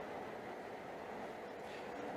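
The Jakarta-Bandung high-speed train on a test run gives off a faint, steady rumble, heard as a smooth continuous rolling hum without distinct beats.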